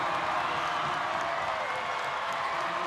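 A crowd at a boys' Class A state basketball final roars and claps, a continuous dense wall of cheering and applause filling the arena.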